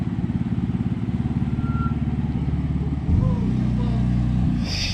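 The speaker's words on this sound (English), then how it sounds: "So Bay's gonna move the car for me." A BMW F80 M3 being moved into a garage, its engine idling with a loud rhythmic low burble, then a deeper steady drone as it shifts, close by, with a short higher noise at the end.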